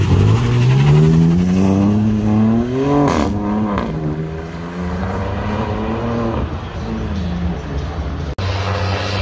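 A BMW M3 Competition accelerates hard on a street, its engine note climbing in pitch through a rising rev, then settling into a steady drone as it pulls away, loud and close.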